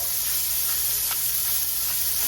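Onions and small bits of meat sizzle in olive oil in a pan, a steady close hiss and crackle running evenly throughout with no talking.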